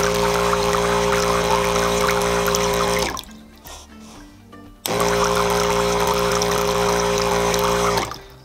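An automatic solar water pump motor runs with a loud steady hum and splashing water flow, cuts off for nearly two seconds into quieter trickling, then starts again at full strength before stopping near the end.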